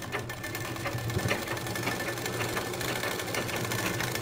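Sewing machine running steadily while stitching a blouse with aari work, a continuous mechanical whir with rapid needle chatter throughout, close and fairly loud with no talking.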